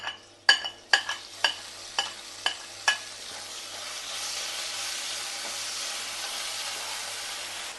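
Green chillies sautéing with crushed ginger and garlic in a pan, several sharp crackles and pops from being stirred up close, then a steady, even sizzle that continues to the end.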